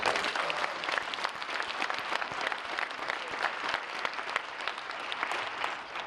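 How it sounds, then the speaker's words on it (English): Dense, even applause fills a community school meeting room, a crowd clapping continuously at moderate level with no talk over it. "Give them a nice round of applause."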